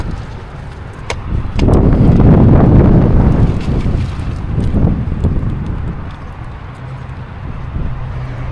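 Strong wind gusting outdoors and buffeting the microphone, a heavy low roar that swells to a peak and then eases, loud and close.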